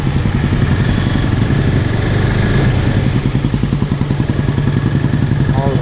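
A 2017 KTM RC 390 single-cylinder motorcycle with a new exhaust idles loud and close with a steady, throbbing, slightly clattery pulse that holds even throughout, with no talk.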